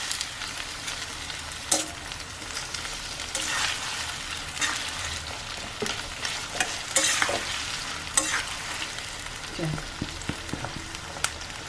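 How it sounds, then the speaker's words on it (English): Onions frying in hot oil in a pan for a restaurant-style chicken chukka, a steady close sizzle with intermittent scraping stirs and clatter, no voices. "So the onions to golden brown hoa tak fry karo le"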